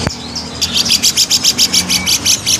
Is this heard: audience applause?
no